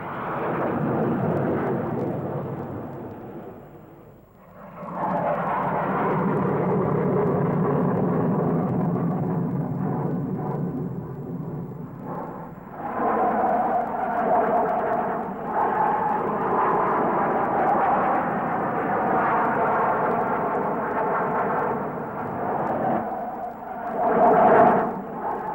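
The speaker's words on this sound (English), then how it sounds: "when you saw 12 airplanes do this in line of stern formation, with all the thunder and roar that went with it" Roaring jet engines of English Electric Lightning fighters climbing vertically in line-astern formation, a long, loud, rumbling thunder that dips briefly then surges again, continuous and without speech.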